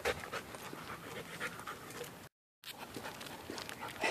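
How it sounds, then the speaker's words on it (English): Dog panting in rapid, rhythmic breaths close by on a hot day during a walk, with a brief dropout midway. "Ooh, a doggy."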